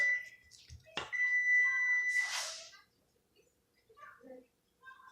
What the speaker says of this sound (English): that's my timer for my cookies to go in